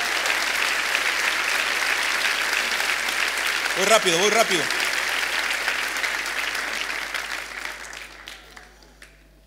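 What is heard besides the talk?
audience applause in church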